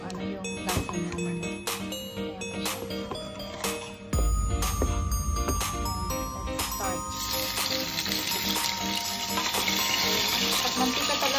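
Crispy pork frying in hot oil, a sizzling crackle that jumps louder and denser partway through as the meat hits the oil, with clinking utensils and someone talking over it.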